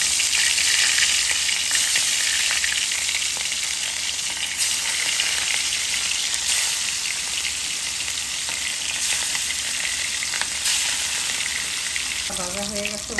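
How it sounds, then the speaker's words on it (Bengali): Hilsa fish frying in a pan with mustard paste, a steady loud sizzle and crackle of hot oil that continues without pause, with faint clinks near the end. "মাছটা দিয়ে দিতেছি লাগার জন্য"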